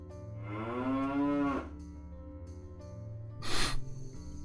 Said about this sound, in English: Oh, it's a cow!